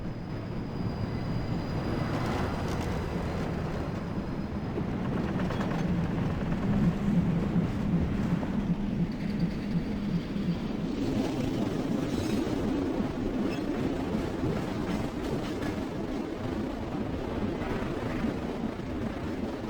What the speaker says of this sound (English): Back through the minecart ride of doom, back to Crater Island